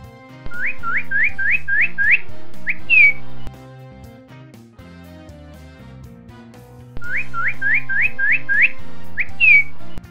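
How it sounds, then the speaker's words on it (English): Two bursts of bright bird chirps, a quick run of six or seven rising tweets ending in a higher call, over gentle background music. "Bird."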